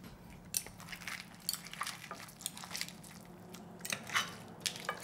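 Crunchy skin of a roasted whole chicken leg (Korean tongdak gui) being bitten and chewed up close, with several sharp crackling bites and chewing sounds over a few seconds, no talking.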